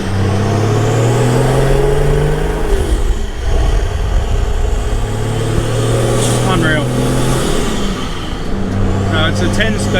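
A 10-speed truck with a splitter gearbox, used for towing vehicles, runs with a loud, steady low engine drone that rises and falls slightly, with a voice present throughout.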